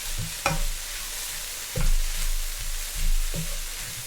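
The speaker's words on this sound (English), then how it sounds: "And we're going to stir it." Ingredients for a vegan loaf stirred in a pan, close wet scraping strokes repeating every second or so over a low background hum.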